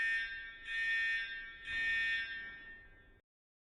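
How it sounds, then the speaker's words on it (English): A buzzer in a homemade buzz wire game sounds in two steady, shrill tones, swelling and fading before cutting off abruptly. "Now to connect the buzzer."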